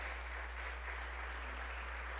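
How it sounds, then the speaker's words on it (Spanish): A church congregation applauds at an evening service, giving steady, dense clapping that holds throughout, heard faintly and somewhat distant over a low hum. "Démosle un aplauso al Señor con todo nuestro corazón esta noche."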